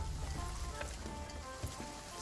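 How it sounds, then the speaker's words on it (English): Rain falls in the pirate video game Sea of Thieves as a faint, steady, crackling hiss, continuous throughout and with no voices. "It's raining out."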